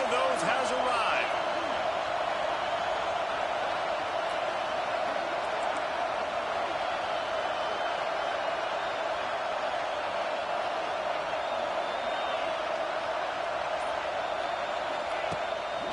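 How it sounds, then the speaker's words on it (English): Dense roaring stadium crowd in the College Football 26 video game, a constant wash of cheering with no breaks, with faint thumps under it. "This crowd knows they have to bring it in big moments"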